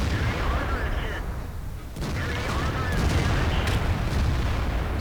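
WT auf E100 tank destroyer and other tanks firing in World of Tanks, a dense, continuous booming barrage of heavy cannon blasts and rumbling, loud throughout with a brief dip before the fire swells again.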